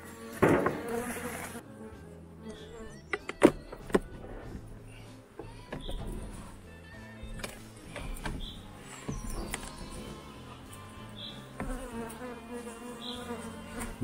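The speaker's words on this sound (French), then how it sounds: "Encore un petit peu d'abeilles, pas grand chose." Honey bees buzz faintly around an opened beehive during a beekeeper's inspection, a soft continuous hum with occasional louder knocks and handling noises from the hive frames.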